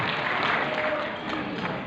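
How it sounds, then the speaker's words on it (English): An audience at a dinner gathering applauds, a brief, even wash of many hands clapping close by and fairly loud, with no individual claps standing out. "So please give a round of applause to yourself"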